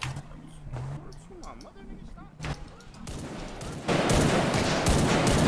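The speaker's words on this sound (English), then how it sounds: "I let shots go" Rapid bursts of gunfire in a video game roleplay shootout, loud sustained volleys swelling toward the end, mixed with speech and game noise.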